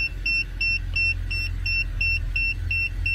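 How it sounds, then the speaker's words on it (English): BMW E90 engine idling low and steady while shifted into reverse, with a regular high beeping repeating roughly every half second over the hum, close and without talk. "we'll start the car, foot on the brake, and then let's move it into reverse."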